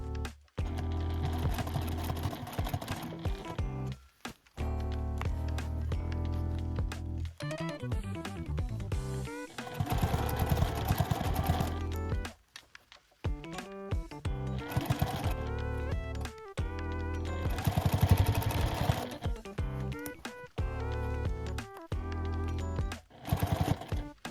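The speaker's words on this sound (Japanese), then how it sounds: "ぐるっと一周ミシンで縫います" A sewing machine runs in repeated bursts of rapid mechanical stitching, stopping and starting with short pauses between runs.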